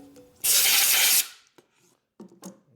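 A short, loud burst of compressed air blasts residue off a rebuilt rear wheel of a 2004 Harley-Davidson FLHT Twin Cam touring motorcycle, about a second of hiss, followed by faint clicks and handling noises.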